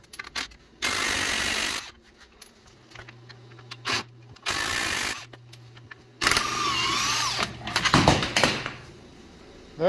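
Factory front sway bars coming off a Jeep JK with a power tool: several loud, close bursts of about a second each, separated by short pauses, ending in a longer whining run, with no voices.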